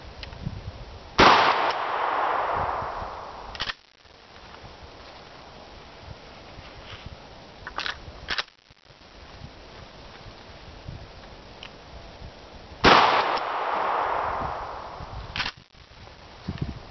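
Wax slugs fired from a gun strike an old radiator outdoors, two loud sharp bursts several seconds apart, each with a brief rough decay, plus a few fainter cracks between them, no talking.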